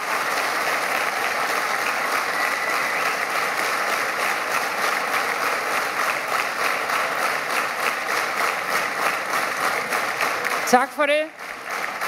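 Sustained applause from a large crowd at a Danish party congress fills the hall for about ten seconds, steady and loud, then a voice speaks briefly as it dies down.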